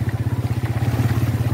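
A motorcycle carrying several children to school on a wet road after night rain, its engine thumping in a steady, fast pulsing rhythm close by and loud, with no talk.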